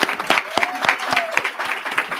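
A short stretch of audience applause at a ceremony in the São Paulo Legislative Assembly, many hands clapping together in a dense, steady patter, with a faint voice briefly heard underneath.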